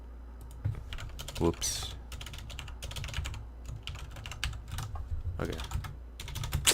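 Keys clatter on a computer keyboard at a desk during C# programming in Unity, with several short bursts of typing up close and a few words spoken briefly over them.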